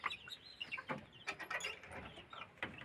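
Chickens cluck softly at a home while a boy sets out water for them, faint close calls and small scratchy knocks scattered through a quiet background.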